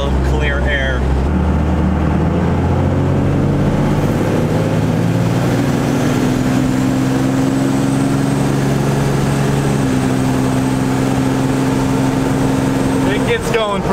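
Diesel truck engine at highway speed, around 80 mph and 2100 RPM: a loud, steady drone with a rising tone and road noise, with a person talking over it.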